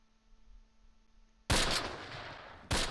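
Gunfire in the WWII tactical game Close Combat: after a quiet hum, a loud burst of rapid shots erupts and rolls on, then a second sharp volley starts near the end, close and harsh.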